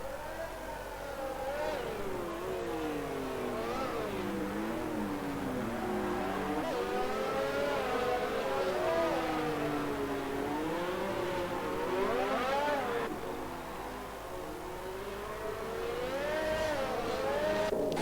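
Racing car engines in a Monaco Grand Prix racing video game, cars following a safety car with whining, rising and falling engine pitches, steady and fairly loud throughout without talk.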